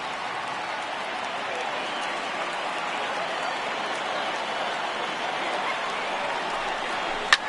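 A stadium crowd of over 39,000 in an Arizona at LA Dodgers game in MLB 18 The Show keeps up a steady, even cheering roar, with a commentator speaking over it.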